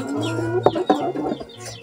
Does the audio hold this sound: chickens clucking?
yes